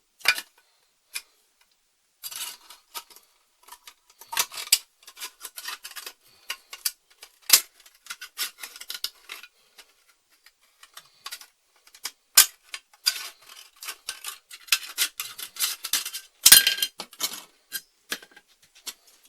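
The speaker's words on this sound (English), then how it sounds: "cut the bottom off of it. Scissors are a bit big, but should do it." Irregular crisp snips and crackles of scissors cutting the bottom off a plastic bottle, close up, in bursts of clicks and crunches with short quiet gaps between.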